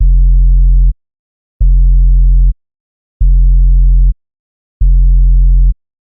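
A synthesized sub-bass tone, mostly deep low frequencies, sounds four times in a row, each steady hum lasting about a second and cut off cleanly before a short silence.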